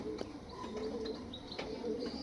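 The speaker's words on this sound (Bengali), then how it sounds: "এটা মাদি পায়রা" Pigeons, including a female, coo softly and somewhat distantly over a low background hum, with several short rising and falling calls spread across the moment.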